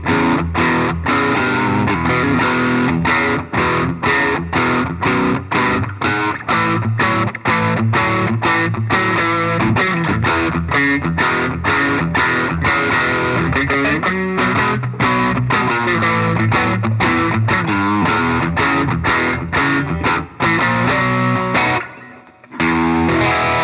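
Electric guitar through a Bias FX 2 blues preset modeled on a Fender Twin Reverb amp plays a long, dense run of driven, distorted notes and chords, loud and continuous with a brief pause near the end.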